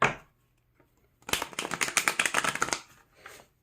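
A deck of cards is riffle-shuffled, a rapid fluttering burst of crisp clicks lasting over a second, preceded and followed by brief soft rustles.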